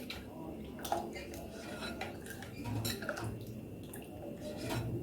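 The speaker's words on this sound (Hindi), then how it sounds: "अब इन सब चीज़ों को अच्छे से मिक्स कर लेंगे।" Ingredients for Amritsar-style sour laddus are mixed in a bowl, with a spoon scraping and clinking against the dish in irregular close strokes and a faint watery slosh.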